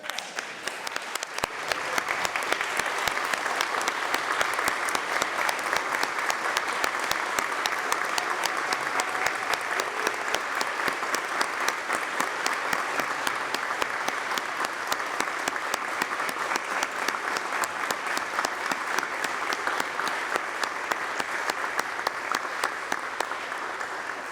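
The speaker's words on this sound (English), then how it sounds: "Round of applause, shall we?" Legislators and guests in the New York State Senate chamber keep up sustained, even applause that rolls on at a steady level for more than twenty seconds, with a murmur of voices faint beneath.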